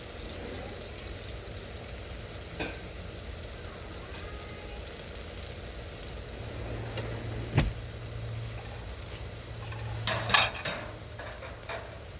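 Beef tips on a Blackstone griddle, a soft steady sizzle with occasional spatula scrapes and clicks as the meat is mixed, quiet and without speech.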